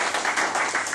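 An audience at a prize ceremony for a commercial festival in Comines-Warneton, 2010, breaks into applause, a dense, steady wash of clapping with no pauses.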